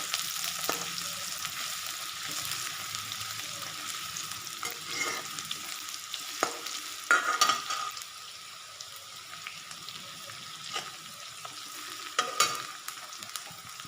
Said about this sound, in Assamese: তেল গৰম হোৱাৰ পাছত পিঁয়াজ দি দিছোঁ। পিঁয়াজখিনি ৰঙচুৱা বৰণ কৰালৈকে এনেকৈ ভাজি থাকিব।